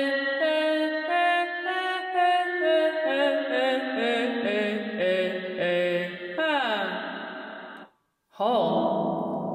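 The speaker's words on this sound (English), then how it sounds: "Echo spring." A wordless sung vocal runs through the echo spring setting of an Electro-Harmonix Cathedral stereo reverb pedal, its held tones stepping down in pitch with a springy, echoing tail. The sound cuts off abruptly near the end, then a reverberant note returns.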